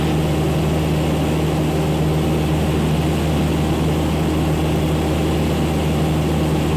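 A Cessna light aircraft engine drones continuously in flight while descending over Lake Sammamish at 2200 feet, a loud, steady low propeller hum heard from inside the cabin with no talking over it.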